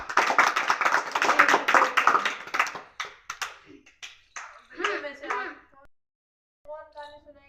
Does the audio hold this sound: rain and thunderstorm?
no